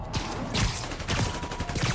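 Dense bursts of gunfire in The Amazing Spider-Man 2 video game, repeated cracks and thuds in a constant busy street-battle din.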